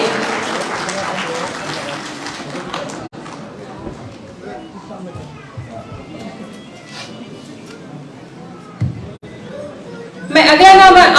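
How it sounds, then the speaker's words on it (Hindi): Applause from an audience in a hall at a homeopathy award ceremony, first a loud burst, then quieter scattered clapping with chatter and voices, and a renewed strong round of clapping at the end. "आपको तालियां बजाते रहना है"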